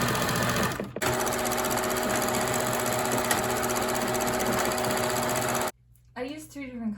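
A sewing machine stitches denim jeans in a loud, steady, buzzing run that pauses once briefly, then stops as a voice begins speaking.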